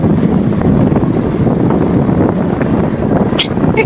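Strong windstorm roaring across a village road in Pakistan, a loud, continuous buffeting rush of gusts hitting the microphone with no letup.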